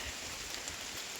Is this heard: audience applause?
no